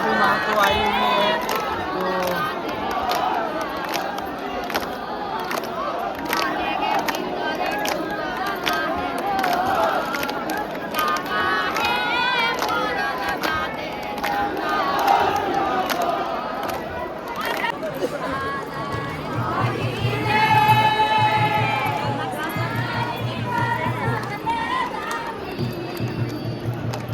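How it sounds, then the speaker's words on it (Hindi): A large crowd fills the Muri rail blockade protest with a steady roar of chatter, shouting and movement, a voice speaking close over the din and a chant-like surge of voices rising near the end. "देख सकते हैं कितना भीड़ है"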